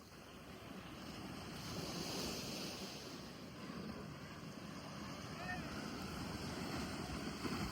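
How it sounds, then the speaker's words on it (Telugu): Ocean surf rolls in at RK Beach in Vizag, a steady wash of breaking waves mixed with wind rumble on the microphone and faint crowd noise. "చూడండి ఎంత హైలైట్ ఉన్నదో బీచ్ ఇక్కడ."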